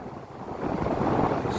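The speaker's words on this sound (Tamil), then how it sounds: "இப்போ வந்து காற்று அடிக்குது." Wind gusts at sea beside a boat with a Yamaha engine, a rough blustery rush buffeting the microphone that swells and grows louder halfway through, with no voices.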